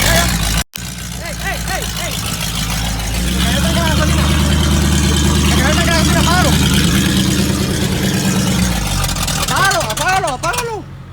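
A 1972 Mustang coupe engine idles steadily with a low, even rumble, while several people talk over it and call out excitedly; there is one brief cut near the start.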